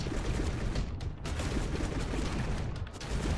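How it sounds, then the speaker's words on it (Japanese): An explosion punch attack in the God Of Weapons video game sets off a dense, continuous barrage of rapid blasts, loud and close, with brief dips in between. "これがこの新爆発パンチ"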